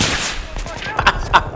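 AK rifle gunfire in the video game Battlefield 3 on the Bazaar conquest map, a short loud burst of rapid shots with a couple of sharper cracks, mixed with game noise and voice chat.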